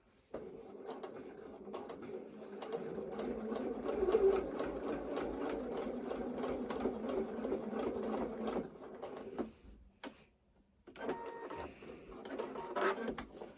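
A domestic sewing machine stitches a line on fabric shorts, running in a steady fast rhythmic whir for several seconds, pausing briefly, then starting again, close and moderately loud with no talking.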